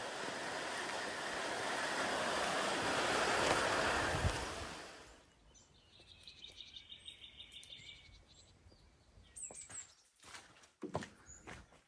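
Rain behind an old house under renovation, a dense loud wash of falling drops that suddenly drops away, leaving faint scattered bird chirps and sparse small knocks.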